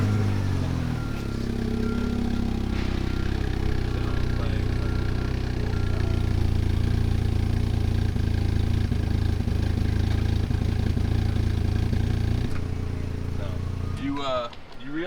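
A 1985 Volkswagen Mk II GTI engine runs loudly at a steady, throaty idle with a low rumble that holds, then cuts off near the end, while people talk over it.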